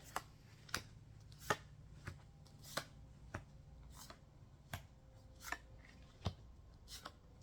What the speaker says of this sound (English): This is giving me a chance to shuffle the cards pretty